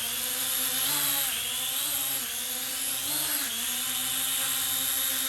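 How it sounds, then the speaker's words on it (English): A Dynalog DR-DF100B drone spins at high speed with a loud, steady, high-pitched buzz of whirring rotors. The pitch rises and falls slightly as it rotates, and no one talks. "I'm going to show you the high-speed rotation."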